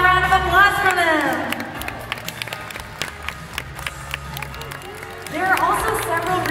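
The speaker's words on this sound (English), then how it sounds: "How about a round of applause for them?" Audience applause at a dolphin show at Six Flags Discovery Kingdom in Vallejo, California: scattered, crisp claps in a crowd, with rising tonal whistle-like calls at the start and the end.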